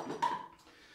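A light plastic elliptical camping bowl knocks and scrapes briefly as it is handled, one quick hollow clack followed by a faint rubbing, close and quiet.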